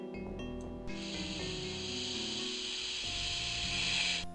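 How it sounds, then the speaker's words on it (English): Loud, steady hissing of snakes in the game Ravenloft: The Stone Prophet, a broad continuous hiss that swells and holds for several seconds over a low droning musical background. "And there's what's doing the hissing. Snakes."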